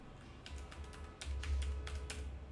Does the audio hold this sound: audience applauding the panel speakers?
no